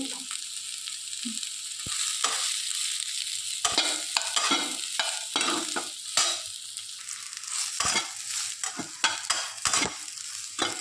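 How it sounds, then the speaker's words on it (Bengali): Soybean chunks frying in oil in a pan: a constant sizzle broken by repeated scraping and clattering stirring strokes, close and fairly loud. No talking. "কিছুক্ষণ নেড়ে চেড়ে ভেজে নিয়েছি"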